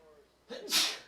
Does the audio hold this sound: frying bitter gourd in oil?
no